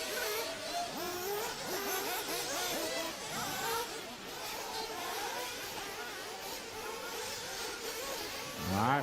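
Several buggy race car engines at the Asian Buggy Championships in New Zealand buzz and whine continuously at a moderate distance, with shifting pitches overlapping throughout and a louder rise near the end.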